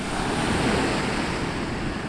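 Ocean waves break on the shore in a side wind, making a loud, steady roar of surf mixed with gusty wind buffeting the microphone, with no voices.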